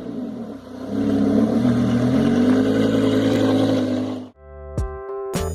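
The LS V8 engine of a kit car rumbles loud and steady, close by, then drops off and fires a couple of sharp revs near the end.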